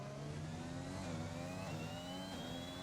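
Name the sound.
race car engine braking and shifting gears at Spa, racing video game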